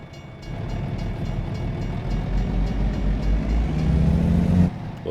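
A freight train rumbles past a level crossing in American Truck Simulator, its heavy low clatter and rolling wheel noise loud and close, building steadily before cutting off sharply near the end.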